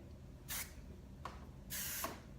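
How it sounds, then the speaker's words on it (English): Hairspray hisses from a can onto hair in three short bursts, the first and last about a fifth of a second long and the middle one briefer, close by against a quiet room. "And then just some more hairspray."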